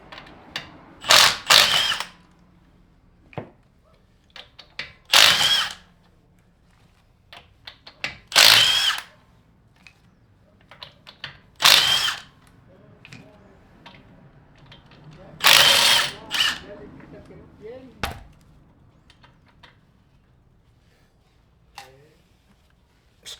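Power drill or impact tool spinning off 17mm factory lug nuts while swapping to new Enkei TS5 wheels, close up in short bursts of about one to two seconds each, roughly six of them, with quiet pauses between.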